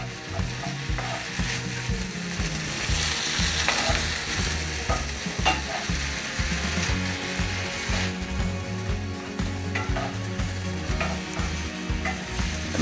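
Food being stirred and sautéed in a pan: a continuous loud sizzle with repeated rhythmic scraping and clattering of a utensil throughout, no talking.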